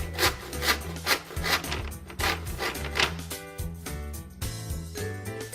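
A parquet board for wall mounting is sawn by hand in quick rhythmic rasping strokes, close and fairly loud, with the cadence shifting slightly near the end.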